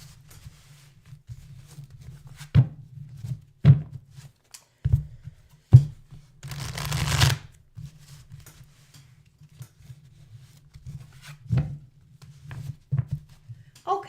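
Tarot cards are shuffled close by in soft riffling bursts and brief flutters scattered among quiet gaps, with a longer burst in the middle; a person speaks intermittently over the low background.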